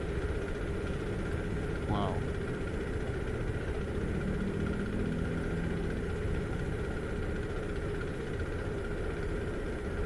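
A Kawasaki KLX230SM supermoto sits at a high idle, a steady even engine drone holding constant for the whole stretch, with a short exclamation from a rider early on.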